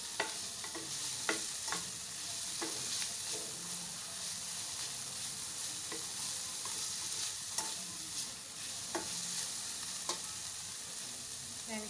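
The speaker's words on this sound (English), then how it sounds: "a quick stir." Noodles with a stock cube being stirred in a pan, a steady sizzle running throughout with repeated scraping strokes of the utensil against the pan at an even, unhurried pace.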